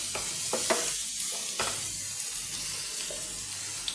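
Paneer masala ingredients fry in a pan with a constant sizzle, broken by several sharp scraping knocks of a utensil stirring and tapping against the pan, close and clear with no talk.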